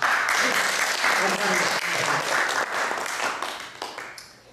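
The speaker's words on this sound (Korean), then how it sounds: "예수님께 경배의 박수." A worshipping congregation claps together during a Korean church service, a dense, loud burst of applause with voices mixed in that holds steady before thinning out toward the end.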